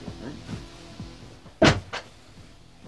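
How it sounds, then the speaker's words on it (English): A door being shut indoors, heard as one sharp, fairly loud thud with a short rattle just after, set against quiet background voices and room sounds. "Shut the door."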